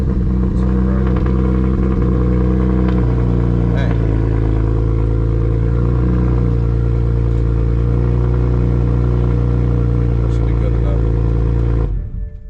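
BMW 335i fitted with a single turbo, its engine running loud and close with a steady, droning idle and brief rises in revs before it cuts off abruptly at the end.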